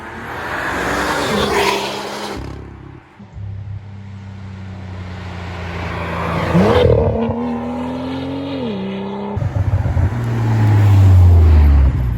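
A BMW M2 with a titanium exhaust, valve closed, drones and revs, engine note rising and falling through gear changes, muted and deep, ending in a loud acceleration.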